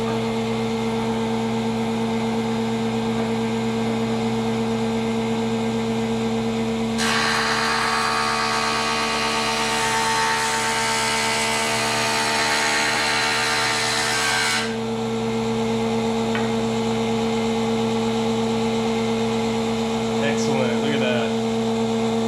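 A jointer's replacement motor hums steadily throughout, rising into a loud, harsh cutting roar for several seconds in the middle as it joints a board's face, before settling back to an idle drone.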